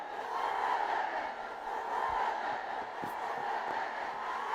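A cricket crowd at a Nepal versus UAE match does the Nepali wave, a broad, sustained roar of many voices that swells and holds, with scattered cheers and claps within it.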